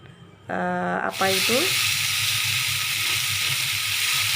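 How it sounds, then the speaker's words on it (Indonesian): Goat meat sautés with spices in a pan for biryani, a steady loud sizzle that bursts in after a short tonal sound and continues evenly. "Nah, kita tumis terus sampai bumbunya juga meresap di dalam daging ya."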